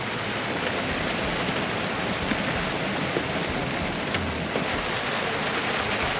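Steady rain pours down on a sailboat, a dense even hiss of drops with occasional louder patters, fairly close and unbroken throughout.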